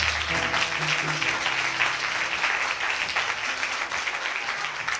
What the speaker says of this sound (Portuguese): Aplaude a Jesus pela vida dele.